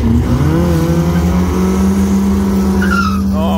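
A Datsun fitted with a big block engine revs hard at a burnout competition, its loud sustained roar climbing in pitch while tire squeal and skidding join near the end, close and overpowering.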